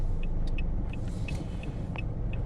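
A car rolls along a road through a town in March, a steady low rumble with faint higher ticks and clicks scattered over it, no talking.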